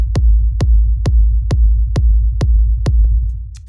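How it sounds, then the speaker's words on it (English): A rumble kick drum for ambient techno, with a deep sustained low-end rumble beneath. Eight punchy kicks hit at a steady pace of about two per second, loud and close, over a continuous booming tail with no voices. "So this is a rumble kick."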